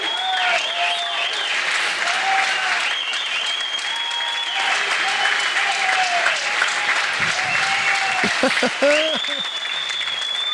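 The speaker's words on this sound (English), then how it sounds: "The crowd is just hollering for Tom Kennedy." Standing ovation at the 1992 U.S. Open 9-Ball Championship finals, continuous loud clapping from a pool tournament audience, with a commentator's voice talking over it intermittently.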